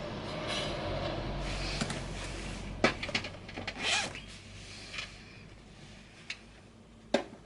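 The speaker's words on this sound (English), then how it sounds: "Just moving that zip pull out the way." A make-up bag zipper pull is shifted during sewing, giving a few short scraping clicks over faint room noise with no talk.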